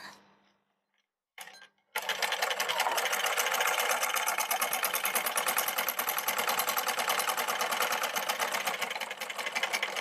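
A domestic sewing machine, just fitted with a reset spring, runs a continuous stitch after a few brief handling clicks, its rapid mechanical needle clatter loud, close and even until the end.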